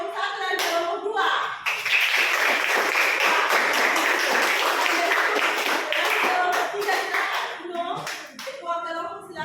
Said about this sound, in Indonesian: Tepuk tangan untuk kelompok satu dan kelompok dua.